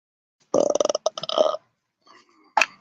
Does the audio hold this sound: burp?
yes